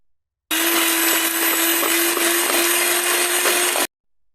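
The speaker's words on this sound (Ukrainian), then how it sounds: "Міксером я його розколочу" An electric mixer beats pancake batter of eggs, flour and sugar in a bowl, a loud steady whirring drone with a fixed hum that starts abruptly, runs about three seconds alone, then cuts off.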